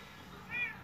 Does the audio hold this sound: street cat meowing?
yes